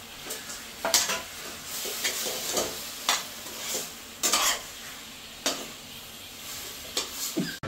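Marinated chicken frying in ghee in a Healux pot for chicken biryani, with a bed of sizzling broken by repeated scrapes and clanks of a spoon stirring against the pan at irregular intervals.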